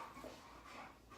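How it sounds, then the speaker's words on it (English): Excited dogs just let out of their crate make faint whimpers and yips at a distance, brief and low in the background. "Don't mind my dogs. They were in their crate and I just took them out, so they're a little hyper."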